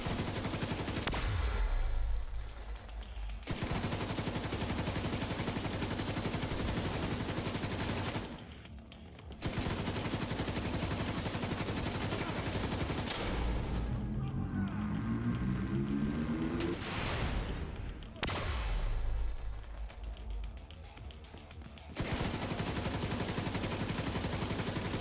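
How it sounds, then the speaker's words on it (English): Sustained automatic gunfire from The Division 2 roars almost continuously in a loud firefight, broken by a few brief pauses, with heavy blasts and rumbling low end. "I can just keep shooting because I know they're not going to shoot me back."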